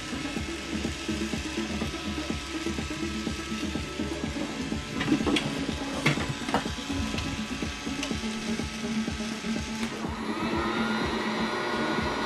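A Dyson DC22 toy vacuum cleaner runs with a steady, fairly loud whirring hum and a hiss, holding constant throughout with a few faint clicks and rattles partway through and no talking.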